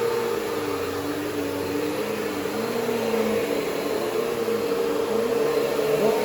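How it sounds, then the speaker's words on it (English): A vacuum cleaner running continuously while a house is vacuumed, a steady loud motor whine and airflow roar with slight shifts in pitch as it moves. "And we're going to keep vacuuming."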